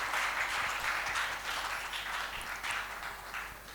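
An audience at an Ahmedabad literature festival evening of music and poetry claps in a steady, even wash of applause that stays fairly subdued from start to finish.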